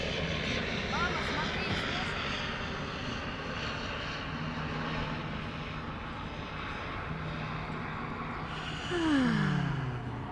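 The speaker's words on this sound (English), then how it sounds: "Wait one moment while the plane flies over." An airplane passes overhead outdoors at a festival site near a gorge, a low droning engine hum rising steadily and growing louder toward the end, with faint voices and ambient sound around it.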